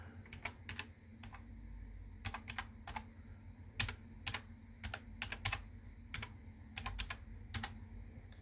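A login ID and password are typed on a computer keyboard at an Ubuntu 19.1 login screen: quiet, close, irregular clusters of key clicks with short pauses between them and no voices.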